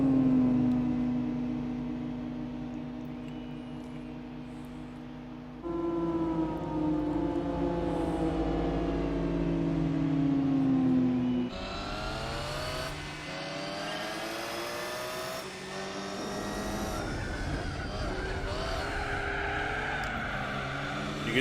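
A racing car's engine in Gran Turismo 4 revs loud and close, its tone climbing and dropping through gear changes, with tyres losing grip.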